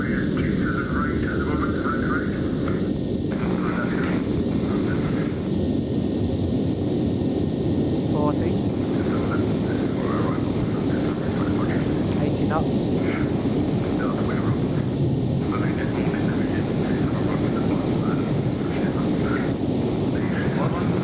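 Twin jet engines of a Citation Jet 525 in a flight simulator roar steadily during the takeoff roll. The sound is a loud, continuous rumble and whine that does not let up.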